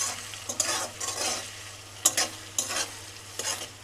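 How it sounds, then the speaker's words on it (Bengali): Sliced onions with crushed garlic, cardamom and cinnamon fry in oil while being stirred, giving a steady sizzle broken by several close scraping strokes. "পেঁয়াজ লাল লাল করে একটু ভেজে নিতে হবে"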